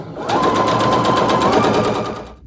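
Sewing machine chain piecing quilt block units, running steadily for about two seconds with a fast, even stitching rhythm, near and loud with no talk.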